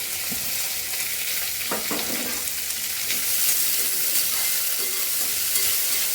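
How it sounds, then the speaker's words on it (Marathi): Onion sautés in a pan with a bright, steady sizzle while a spoon scrapes and stirs through it a few times, close and clear. "छान परतून घ्यायचं।"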